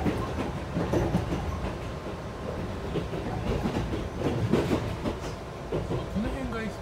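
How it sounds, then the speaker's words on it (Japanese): Chichibu Railway express train passing through a station, heard from on board with a steady rumble of wheels and clicking rail joints, a few voices talking over it. "秩父鉄道でこうやって駅通過するのってなかなか爽快だね。"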